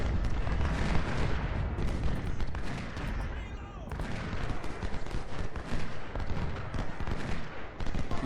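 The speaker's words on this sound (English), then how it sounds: "Now his artillery's firing on my skirmishers" Artillery fire and musketry from an Ultimate General: Civil War battle at Fredericksburg rumble continuously and densely, dull booms and crackling volleys overlapping into a loud, unbroken roar.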